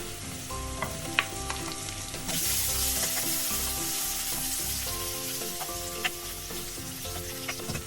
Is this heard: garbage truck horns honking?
no